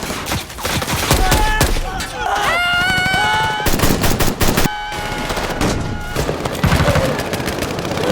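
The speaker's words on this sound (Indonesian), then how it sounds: "Di atas, desingan peluru dan tembakan menggelegar." Film battle scene with rapid machine-gun bursts and a dense fusillade of gunfire, bullets whizzing past in streaking whines, loud and close with short gaps between volleys.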